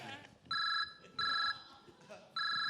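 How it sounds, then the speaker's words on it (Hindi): A telephone rings in three bursts with short pauses between them, bright and electronic, over a faint murmur of background voices. "अब फोन तेरा ही आया"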